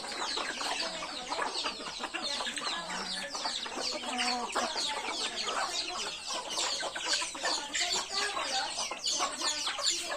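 Domestic chickens clucking around a home yard, a busy overlapping chorus of soft clucks and calls close by, continuous and fairly quiet, without talk.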